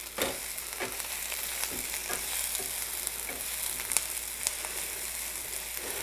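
Zucchini frying in a Uniflame frypan while being stirred, a steady bright sizzle with several soft spatula scrapes and taps spread through, close and even in level.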